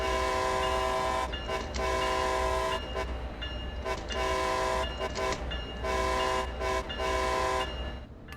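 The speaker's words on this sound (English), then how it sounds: "the ACS-64 does have the best horn of any train in Trains of World. Listen." A loud Amtrak ACS-64 electric locomotive horn in the video game Train Sim World blares in a series of long, sustained blasts separated by short gaps, its bright chord ringing over a steady low rumble.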